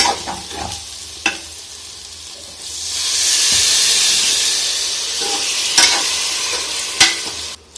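A hot pan of meal maker (soya chunk) curry sizzles, then a loud steady hiss swells as water is poured in, with a few clanks of a utensil against the pan.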